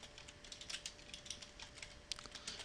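Rapid, uneven clatter of keys on a computer keyboard while entering code, steady and close with small bursts of faster strokes, no voices.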